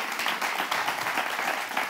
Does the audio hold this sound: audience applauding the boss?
yes